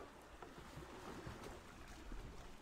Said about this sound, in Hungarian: Megy a hajó, de jó.